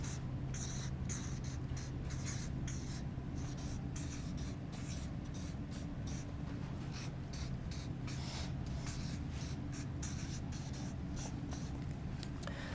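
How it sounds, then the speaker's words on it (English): A pen or pencil scratches steadily across paper, writing notes by hand in quick, continuous strokes with short pauses, close up and faint against a low background hum. "So I'm going to write these down."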